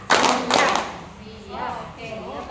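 Two crisp hand claps in a group counting clap game, close and evenly spaced, followed by voices talking in the room.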